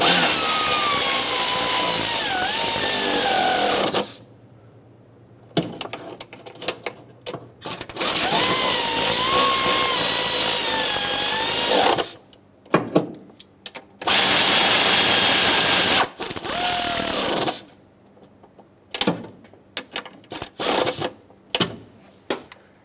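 Intake manifold bolts being snugged down in a cross pattern on a Ford F250 Super Duty 5.4L V8, loud whirring bursts of a power driver lasting a few seconds each, separated by pauses and clicks.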